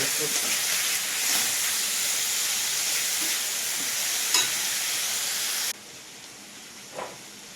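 Tomatoes sizzle in a pan with onions and salt while chilli chicken is being cooked, a steady hissing fry broken by a few stirring scrapes. The sizzle quiets sharply near the end, and one more stir comes after.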